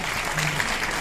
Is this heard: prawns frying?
no